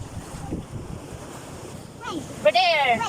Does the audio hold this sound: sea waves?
yes